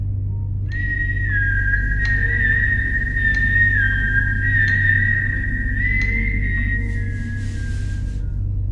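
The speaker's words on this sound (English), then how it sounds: "At exactly 3:03 we heard the whistling." A sustained, wavering high whistle heard at 3:03 AM holds steady for several seconds, sliding slightly in pitch over a constant low background hum, with no voices.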